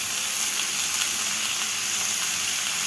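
Tomato and dried red chillies fry in a pan, giving a dense, even sizzle that holds close and loud throughout with no break.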